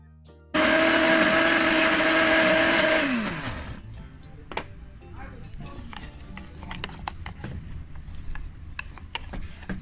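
A countertop blender purees garlic and ginger with a little oil and vinegar, roaring loudly for about two and a half seconds before winding down, followed by quieter clinks and rustling.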